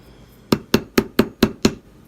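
Hammer striking a wire ear wire for earrings on a bench: six sharp, evenly spaced metallic taps in quick succession, close and loud, with no voices.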